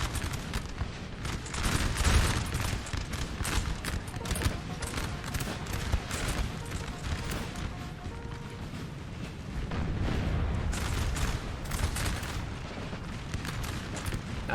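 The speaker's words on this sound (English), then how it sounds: "Artillery still pummeling the side here." Artillery and massed musket gunfire in a Napoleon: Total War battle at Aspern-Essling, a long chaotic barrage of crackling volleys and deep booms, dense and sustained, with no voices.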